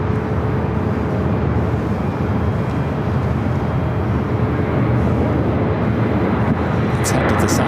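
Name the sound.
Northern Air Cargo converted Boeing 767 taking off at LAX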